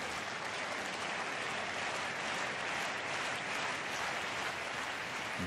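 Tennis crowd at the Australian Open cheering and applauding loudly after a line call review, a dense, steady roar of clapping and voices that fills the whole stretch without letup.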